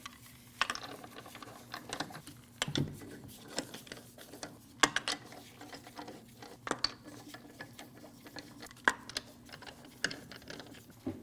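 Metal lug nuts are threaded by hand onto the wheel studs of a 2012-2016 Honda CR-V and snugged, giving a series of irregular close clicks, ratcheting taps and small metallic clatters over a low steady hum.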